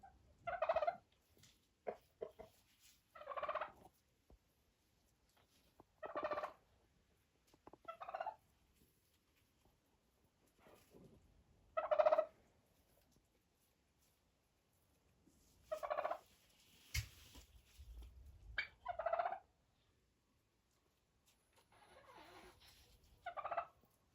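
Turkeys on a village farm in winter gobble in a series of separate bursts spaced a few seconds apart, fairly faint and a little distant, with quiet farmyard noise between calls.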